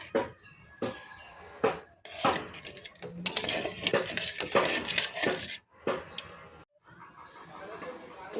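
A spoon clinks and scrapes around a bowl while an egg curry with coconut milk is being cooked, giving irregular close metallic taps and stirring rattles with short pauses, and a voice speaks briefly in the background.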